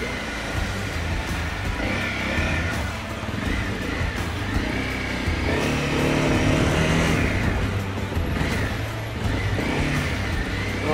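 A big motorcycle pulls away during a riding lesson, its engine note rising steadily and rumbling close up for the whole stretch, with no talk over it.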